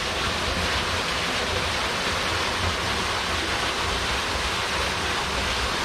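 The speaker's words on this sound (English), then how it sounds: "With the waterfall going down into it." Steady, full roar of a waterfall plunging into a deep rock pool at the Seven Tubs, loud and constant throughout with no breaks or voices.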